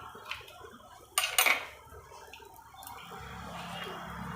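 A spoon clinks and scrapes against a bowl while crushed cashews, almonds, sesame seeds and peanuts are mixed, one sharp burst of clatter standing out before quieter rustling stirring.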